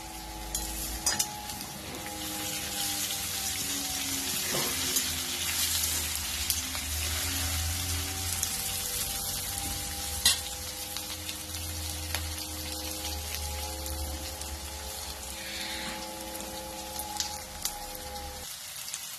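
Colocasia leaf vadi frying in hot oil in a home kitchen, a continuous bubbling sizzle with occasional stirring scrapes and a low steady hum running beneath, close and fairly loud.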